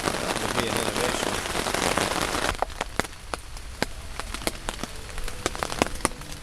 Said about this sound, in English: If they could just work on dampening the sound of the rain, that would be an innovation.